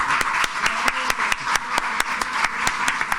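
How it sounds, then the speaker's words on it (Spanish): An audience at a 40th anniversary ceremony for a Cádiz nursing graduating class claps in steady unison, about four sharp beats per second, loud and even throughout. "toca ponerse de pie y dar un aplauso"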